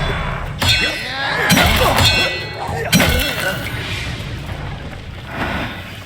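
Expelliarmus disarming spell cast in the Hogwarts Legacy video game: three bright, ringing magical blasts with a metallic clang and booming impact, each fading into a lingering shimmer over a low rumbling background.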